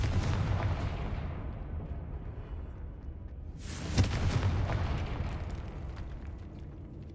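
A Confringo blast spell from Hogwarts Legacy goes off with a sharp, loud explosive burst partway through, over a steady rumbling game soundscape that continues before and after.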